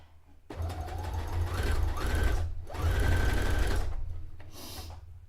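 A sewing machine runs a stretch stitch on a white Princess Leia dress, whirring up in three close, loud runs, each with a rising whine, then easing off.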